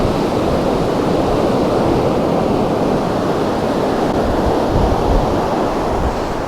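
Sea surf rolls in continuously at Mappleton beach on a Friday evening, a loud, dense roar of breaking waves mixed with wind buffeting the microphone.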